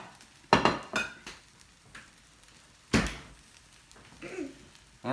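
Plates are taken out for serving, with a few sharp ceramic clatters and knocks spaced unevenly, close and fairly loud, and quieter handling sounds in between.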